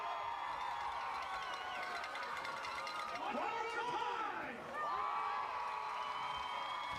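A football stadium crowd at a high school game between Wellsboro and Athens at Hornets Stadium cheers and chatters steadily, with a brief dip before the noise swells again.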